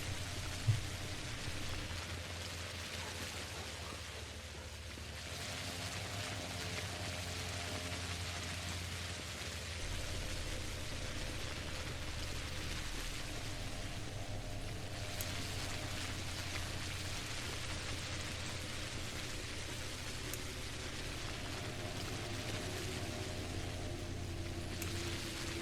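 Steady rain falls in the dark horror game Pathologic, a dense, even hiss of drops filling the whole stretch with a low ambient drone beneath, constant and unbroken, with no voices.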